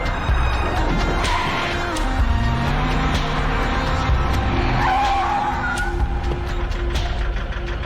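A car brakes hard to a stop with a loud, drawn-out tire squeal and skid that wails for several seconds over the engine noise, close by.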